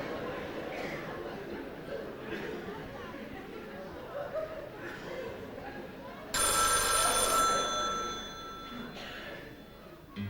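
A telephone rings with a bright burst of bell tones partway through, over a murmur of crowd chatter and talk at a 1994 carnival session evening in Horst.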